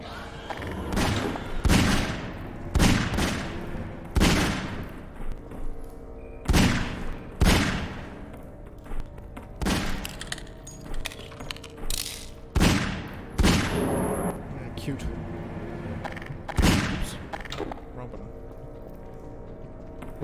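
A Magnum and a shotgun fire in Garry's Mod during a fight against a Xenomorph infestation, with many loud, sharp shots spaced irregularly over steady background noise, some close together, and players talking between them.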